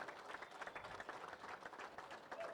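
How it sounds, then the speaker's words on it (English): An audience claps for five finalists at a state auctioneer championship, a steady, moderately distant round of applause filling the moment without speech. "can you give one more big round of applause for your 5 finalists tonight"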